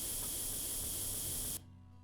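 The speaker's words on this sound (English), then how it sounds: "So we're spraying green, but everything that's not green goes black and whatnot." A spray gun sprays green paint on a tank in a tank mechanic simulator game, giving a loud, steady airy hiss for about a second and a half that then cuts off abruptly, leaving quiet background.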